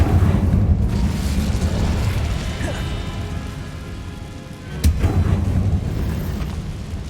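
A fire spell erupts in the Hogwarts Legacy video game, a loud, dense roaring rumble that fills the scene, fading slightly before a fresh burst flares up near the end.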